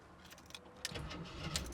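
Keys jangle, then a 1980 Jeep Wagoneer Limited 4x4 engine cranks and catches, a short burst of starter and engine noise, fairly quiet and close.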